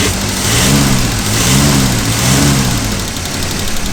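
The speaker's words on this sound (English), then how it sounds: "Leave it to a good old Chevy V8. It's running." A Chevy V8 in a GMC K20 pickup runs steadily, a loud, close rumble with a rhythmic rise and fall in revs and a fuel leak noted.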